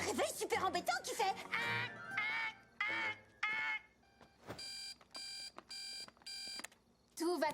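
An annoying alarm clock rings in repeated bright electronic bursts, evenly spaced, after a stretch of animated speech and a voice seemingly imitating the alarm's jarring tone.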